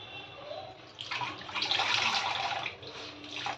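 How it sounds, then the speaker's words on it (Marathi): Washing chopped leafy vegetables in plenty of water: soft close-up splashing and swishing that swells in the middle and continues in uneven bursts. "तिला एक दोन वेळा स्वच्छ अशी धुवून घ्यायची असं भरपूर पाणी घालायचं आणि स्वच्छ धुवायची"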